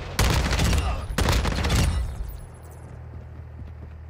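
Two loud bursts of rapid gunfire from Call of Duty Modern Warfare II DMZ, each lasting under a second with a short gap between, then fading into low rumbling game ambience.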